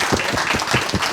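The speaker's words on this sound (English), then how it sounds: "Can we please give a round of applause to our panelists" Applause from a seated audience at a panel discussion on paid family leave in Atlanta, a steady wash of hand claps with a few louder individual claps standing out, brief and fairly close.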